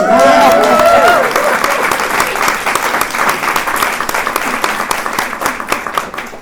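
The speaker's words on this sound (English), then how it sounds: "Let's just do a round of applause for that." Audience applause at a literary panel on poetry, history and race, a loud sustained round of clapping from a large crowd that starts full and tapers slightly, with a voice heard briefly at the start.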